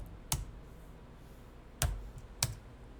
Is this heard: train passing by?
no